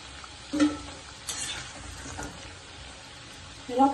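Spicy shakkarpara frying in oil on a medium gas flame: a faint, steady sizzle with a few brief clinks and stirring sounds.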